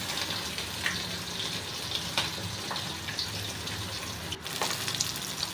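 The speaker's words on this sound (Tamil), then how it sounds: "இப்போ பாருங்கள் மீன் நல்லா ஃப்ரை ஆகிக்கிட்டு இருக்கு." Fish fry in hot oil with a steady, dense hiss, flecked with faint scattered pops, unbroken for the whole stretch.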